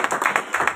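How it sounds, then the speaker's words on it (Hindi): An audience at a coaching and training event claps in a quick, brief burst of several sharp hand claps, fairly close and not overlapped by speech. "अपने लिए जोरदार ताली बजा सकते हैं ना।"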